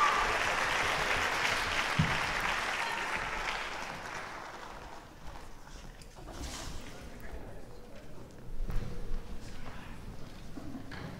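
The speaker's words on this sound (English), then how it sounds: "One more round of applause." Audience applause at a spring instrumental ensemble school concert, a broad wash of clapping that is loud at first, then fades and thins out, with scattered cheers and noises from the room afterward.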